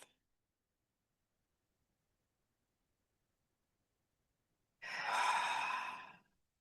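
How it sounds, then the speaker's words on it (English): One slow, deep breath drawn in through the nose and let out through the mouth during a meditation, a soft, airy exhale heard alone after a long silence. "Breathing in through your nose and out through the mouth."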